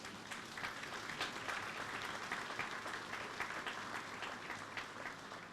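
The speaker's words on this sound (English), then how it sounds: "I believe we should recognize Mr. Wayne Chance by a lustrous round of applause" A crowd applauding steadily, dense clapping at even volume throughout with no voices on top.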